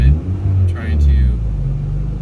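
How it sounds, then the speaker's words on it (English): A 2002 Ford Expedition engine gets a little gas so its alternator charges two batteries, giving a loud close rumble that swells briefly into a rev, with someone talking over it. "A little bit of gas to get the alternator turning, to power both batteries."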